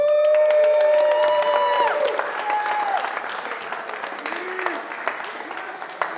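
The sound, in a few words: audience applause for a race winner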